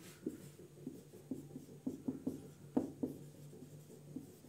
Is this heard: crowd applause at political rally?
no